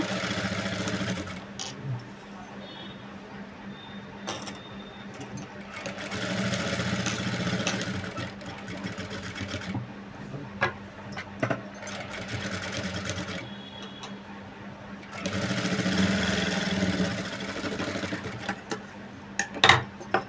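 A sewing machine with a normal presser foot stitches thread piping onto a boat neck, running in several bursts of steady whirring with short pauses between, close and clear, and faint clicks during the gaps.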